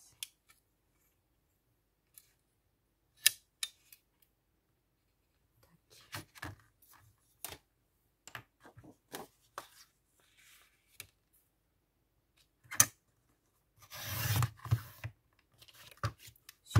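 A small, inexpensive paper trimmer cuts paper for a mini junk journal. Sparse, quiet snips and soft rustles come in short bursts with long silent gaps, and no one speaks.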